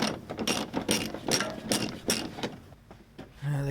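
A ratchet clicks in quick repeated bursts while undoing the nuts that hold the bumper bar on an Isuzu D-Max, close up and steady, with a short metallic clink near the end.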